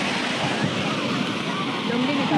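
Seawater splashing against the shore at Walkeshwar, a continuous loud rushing wash of surf close by, with a faint voice at the end.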